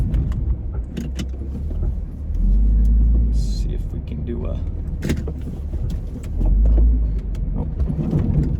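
A Toyota Corolla rolls over a bumpy, underdeveloped road in a new-construction neighborhood in Parker, Texas, giving a steady low cabin rumble with scattered knocks and rattles and two heavier surges of thumping.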